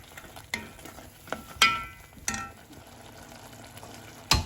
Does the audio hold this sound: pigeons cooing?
no